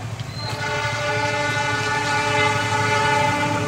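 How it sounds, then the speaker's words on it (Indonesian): A loud coal freight train hauled by a CC-206 diesel locomotive rumbles steadily past at close range, its horn sounding with strong sustained tones over the heavy rolling of the wagons. "Kereta batu bara melintas langsung dengan nomor K2654"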